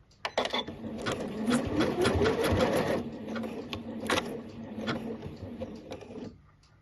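A sewing machine stitching a button runs in a fast, dense burst of needle strokes, then slows into separate stitches before stopping, heard close and clear.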